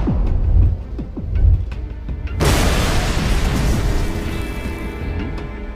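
In a Thai-dubbed 2019 action movie, a car bomb goes off with a sudden loud broadband blast, then a sustained roaring, crackling rumble, after a few low thuds.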